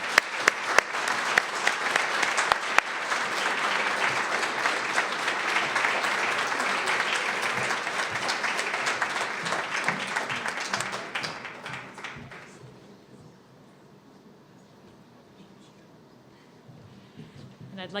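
Commencement awards ceremony audience applauding an award recipient: a full, sustained burst of many people clapping with a few sharp nearby claps at the start, fading out around two-thirds through into quiet room tone with faint stirring.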